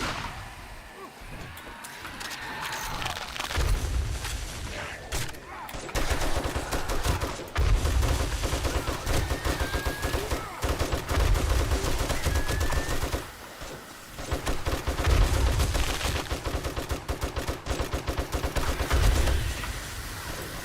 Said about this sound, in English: I don't stop shooting them when they go down, but I just keep shooting them.